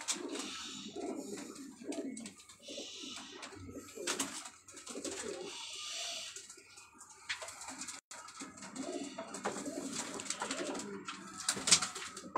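A flock of mixed-breed pigeons, silver birds among them, coos steadily in low throaty rolls close by, with bursts of fluttering and scattered chirps and little talk.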